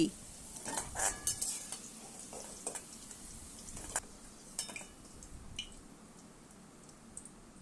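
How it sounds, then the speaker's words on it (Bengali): Potatoes frying in hot oil in a pan, a faint steady sizzle with scattered stirring clicks and spatters throughout, no voices. "আলুকে হালকা রং ধরিয়ে ভেজে তুলে নিচ্ছি"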